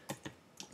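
A few quiet, separate keystrokes on a computer keyboard, close by and alone.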